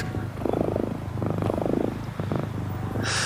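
A cat purrs steadily up close, its rhythmic rumbling pulsing in and out with each breath.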